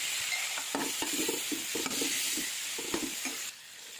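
Shallots, onion and green chilli fry in a pan with a bright, continuous sizzle. Close, repeated spoon scrapes and stirs break through it in an irregular rhythm, and no one speaks.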